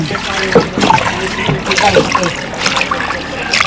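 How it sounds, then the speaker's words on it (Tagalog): Water splashes and trickles into a cooking pot of adobo in coconut milk in short uneven pours, close by, with people talking over it. "Lagay na rin tubig mga kaibigan."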